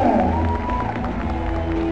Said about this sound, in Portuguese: Vamos aplaudir essa fera, galera!